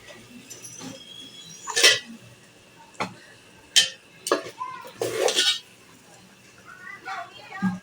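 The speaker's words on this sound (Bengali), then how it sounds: "এখন আমি মাংসগুলো দিয়ে দিচ্ছি" Beef pieces drop into cooked masala in a pot with a series of irregular metallic clanks and scrapes of a spoon against the pot, separated by short pauses.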